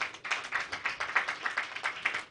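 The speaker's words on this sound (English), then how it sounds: "I think he deserves a round of applause." A small group claps at an evening event, the brief patter of hands steady and fairly close for a couple of seconds with no voices over it.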